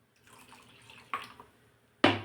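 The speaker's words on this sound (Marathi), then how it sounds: "आता पाणी टाकून घेऊ याच्यात." Water is poured into a pot of spiced amti for a village-style katachi amti, coming as soft trickles and then two sharper splashes close by, with no talk.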